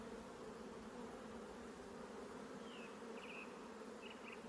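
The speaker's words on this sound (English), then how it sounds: "there's a bee starting to fly in my face now" Honey bees buzz around an open hive while being transferred from a nuc, a faint, steady drone-like hum with a few brief higher buzzes of individual bees flying close, no speech.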